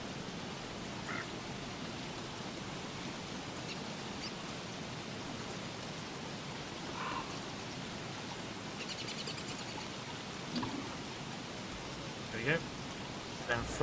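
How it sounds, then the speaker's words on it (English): Heavy rain falls in the video game Don't Starve Together, a steady, even hiss that runs throughout under occasional game sounds and faint background noise. "The rain's coming down hard now"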